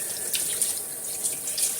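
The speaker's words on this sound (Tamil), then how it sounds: "இதை அப்படியே வாஷ் பண்ணிட வேண்டியதான் ஃபிஷ்ஷு" Fish rinsed under a running kitchen tap, a continuous close hiss of flowing water with light splashing shifts as the fish is turned in the stream.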